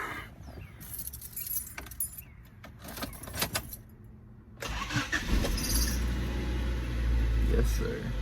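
A 1995 Honda Civic's engine cranks with a brief whirring starter, catches and settles into a steady, close idle after jangling keys and some talk.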